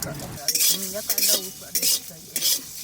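A spoon stirs mustard seeds, coriander and dry red chillies in hot oil for a mango and green jackfruit pickle. The scrapes come in short, close bursts with a faint sizzle between them.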